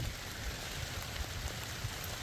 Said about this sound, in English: It's not cold, but it is rainy.